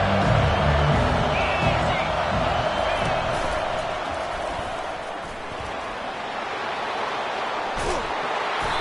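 A football stadium crowd roars and cheers in a steady, broad wash of noise, loud at first and dipping slightly midway, with voices talking over it.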